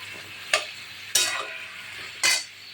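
Vegetables with salt and turmeric frying in a pan, a soft background sizzle marked by three sharp stirring scrapes spaced about a second apart.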